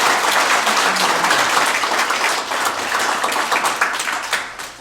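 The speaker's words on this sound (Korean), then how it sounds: "오늘 좋은 강연해 주신 우리 신재철 의원님께 다시 뜨거운 박수 한번 보내주시기 바랍니다" Sustained audience applause at a Buddhist patriotic forum after a lecture by a lawmaker, dense clapping from a full room that holds steady for several seconds, then thins and fades toward the end, with no talk over it.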